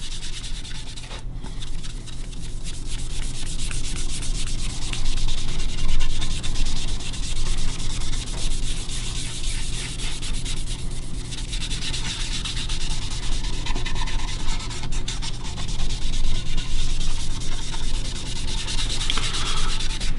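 Sandpaper rubs over the finish of a quilted maple guitar top, with black stain being sanded back, in a continuous close-up scratchy hiss that swells and eases with the strokes and never stops.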